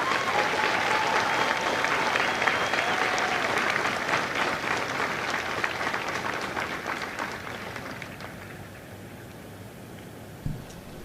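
Sustained applause from a large crowd at a Marine Corps recruit graduation for Kilo Company at MCRD San Diego, loud and steady before slowly thinning out near the end, with a faint thump as it dies away.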